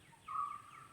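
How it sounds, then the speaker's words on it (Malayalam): A single clear bird chirp rings out briefly, a bright high tone standing alone against quiet outdoor background, in a nutmeg plantation. "ഇപ്പം എന്താണ് കിളികളുടെയൊക്കെ സൗണ്ട് കേൾക്കണില്ലേ"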